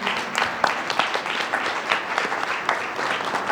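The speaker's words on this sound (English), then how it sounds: "let's give a round of applause for our panelists" An audience at a symposium on race and mental health applauds its panelists: a steady, moderately loud wash of many hands clapping together for several seconds, with no speech over it.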